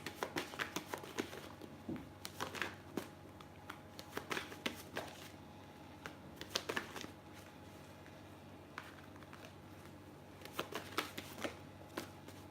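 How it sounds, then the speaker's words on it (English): Tarot cards are shuffled by hand in repeated soft riffling bursts with short pauses, close and fairly quiet, with no talking. "So let's just go ahead and pull you some cards."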